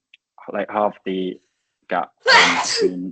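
A sneeze from someone in the audience at a talk on a national youth strategy, a loud broadband burst near the end of the clip, after a speaker's talk.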